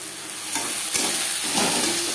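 Bhangor fish being tossed with salt and turmeric in a hot frying pan, a steady close sizzle with stirring scrapes running throughout.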